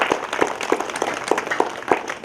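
An audience claps, scattered hands striking at a fairly steady pace with individual claps clearly separated, moderately loud and sounding like a small gathering rather than a roaring crowd.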